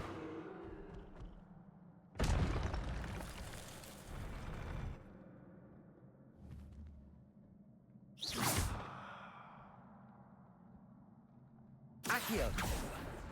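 Three separate bursts of roaring fire from the Incendio spell cast in the Hogwarts Legacy video game, each a sudden whooshing flare that fades, with quieter game ambience between them.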